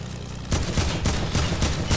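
A rapid burst of gunfire, several loud cracking shots in quick succession with a rumbling background, like game weapons firing close by.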